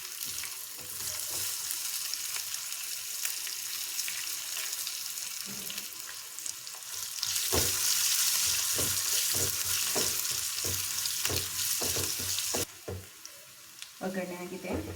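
Curry leaves and onion sizzle and fry in hot oil for a sambar tempering, a steady loud crackle with stirring clatter throughout, intensifying midway, with a brief voice near the end.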